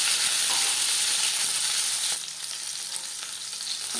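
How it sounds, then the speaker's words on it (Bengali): Marinated tilapia pieces fry in hot oil, giving a loud, steady hiss and sizzle that eases slightly halfway through, with no voices. "দিয়ে দিলাম ম্যারিনেট করে রাখা মাছ। একটা সাইড ভাজা হয়ে গেলে অপর সাইডটা উল্টে দেব।"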